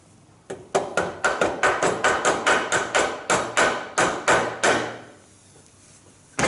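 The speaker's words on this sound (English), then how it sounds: "I've got a mallet here just in case I need to encourage it a little bit further." Mallet blows knocking biscuit-jointed wooden pieces together for a retro side table, about fifteen sharp, evenly spaced taps in a steady run before the hammering stops.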